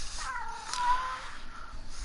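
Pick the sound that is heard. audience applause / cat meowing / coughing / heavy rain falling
cat meowing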